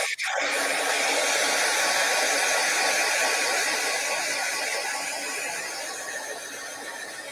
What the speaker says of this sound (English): I think that's the first time I've actually even heard a blow dryer on a live stream.